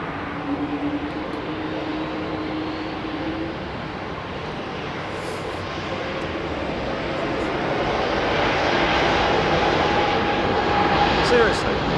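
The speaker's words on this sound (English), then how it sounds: "distinctive sound, hollow almost sound of those Neos, of those Pratt & Whitneys." Airbus A320neo jet with Pratt & Whitney engines near London Heathrow Airport, a loud broad hollow roar that builds and holds steady, with a faint tonal whine and no talk.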